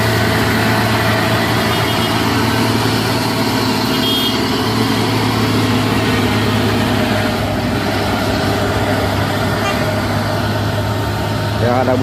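Two trucks labor up a steep hill on Bukit Kodok while being overtaken, a loud, steady engine drone with low rumble close by, a brief beeping tone near the end, and no voice over it.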